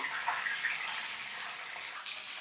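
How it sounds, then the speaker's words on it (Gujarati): Mint leaves deep-fry in hot oil until crisp, giving a continuous bright, even hiss with no voices. "અહીંયા આપણે પેલા ફુદીનો લઈ અને તેને તળી લેશું। એકદમ ક્રિસ્પી ના થાય ત્યાં સુધી આપણે તળી લેશું"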